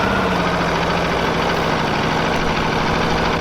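A steady Aprilia V4 1100 Factory motorcycle engine idles with a continuous, even low rumble and fine rhythmic pulsing, heard loud and close with no talk over it.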